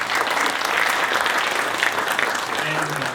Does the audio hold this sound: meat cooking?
no